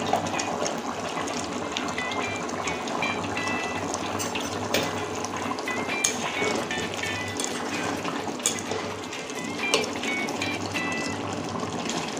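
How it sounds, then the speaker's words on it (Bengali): Rui fish curry broth with potatoes boils in a cooking pot, giving a steady, close bubbling and gurgling simmer with scattered small pops throughout, and no voices. "ঝোলটা দেখুন ফুটতে শুরু করে দিয়েছে।"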